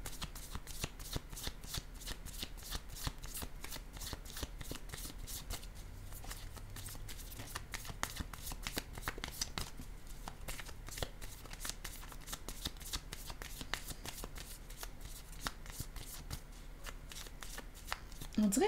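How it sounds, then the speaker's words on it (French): Tarot cards being shuffled and handled in a rapid, even run of soft riffling clicks and slaps across the whole stretch, close and fairly quiet. "Je vais déposer une carte sur le jugement à l'envers."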